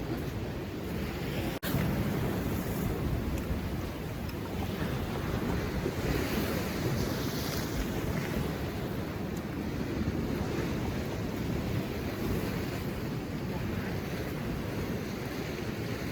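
Sea waves at Chornomorsk surge and crash steadily onto the beach in a loud, continuous roar of surf, with wind buffeting the microphone throughout.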